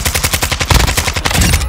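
Rapid automatic gunfire from a 74U in Modern Warfare II, a steady stream of loud, close shots at an even rhythm with a short break near the middle, heard with no talk.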